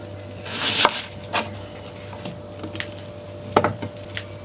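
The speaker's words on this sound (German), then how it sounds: "die schneiden wir uns, nachdem wir sie geschält haben, in zwei Hälften" Knife chopping an onion on a cutting board, with a few sharp, separate close-up strikes spread unevenly over a few seconds against a faint steady hum, without speech.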